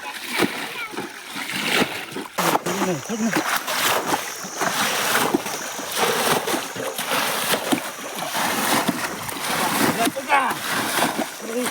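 Repeated splashes and sloshing as water is scooped and tossed out of a river pool to catch fish and crabs, busy and close, with people talking over the work.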